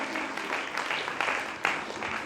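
A crowd of audience members claps together in sustained, dense applause at a gathering, a steady wash of handclaps with a few sharper individual claps standing out.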